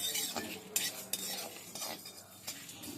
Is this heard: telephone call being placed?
no